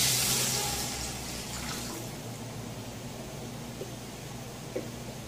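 Water poured into a pan on the stove while making economical dough for fried savory snacks, a steady rushing pour loudest at the start and easing into a softer continuous trickle.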